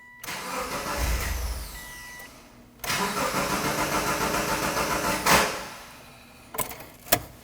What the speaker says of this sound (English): After you remove that relay, you want to start the vehicle.